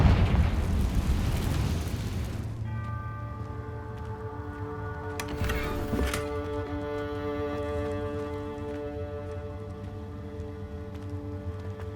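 Confringo fire spells in Hogwarts Legacy erupt in a loud, rumbling explosive burst, then give way to a steady tonal magical hum with a second crackling blast mid-way, no talk over it.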